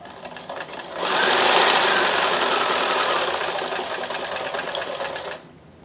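A sewing machine stitches a test seam in one continuous close, loud run of about four seconds, a fast rhythmic needle clatter that starts abruptly and stops cleanly.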